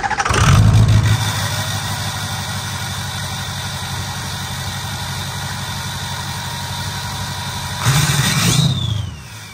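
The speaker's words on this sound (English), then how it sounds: "we're gonna start it up and make sure it doesn't leak" A Ford 6.0L Powerstroke diesel engine cranks and fires up with a loud surge, settles into a steady rattling idle, then revs briefly before shutting down, close and with no talk.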